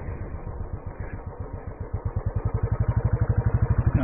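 A Royal Enfield Classic 350 motorcycle engine pulls uphill, a close single-cylinder thump that firms into an even, rapid, loud pulsing beat as the revs build.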